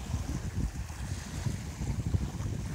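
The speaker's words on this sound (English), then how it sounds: "All I can hear is the wind and the small crashing waves." Steady wind rushes past while small waves lap and splash softly on the shore of Pangong Tso, a high mountain lake, a low continuous outdoor wash with no voices.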